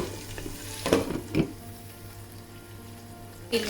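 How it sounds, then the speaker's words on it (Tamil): Pork pieces sautéing in their own rendered oil, a soft steady sizzle with a few scraping stirs, close and fairly quiet. "இந்த இறைச்சியை நாங்கள் இந்த ஒயிலில் வதக்கி எடுக்கணும்"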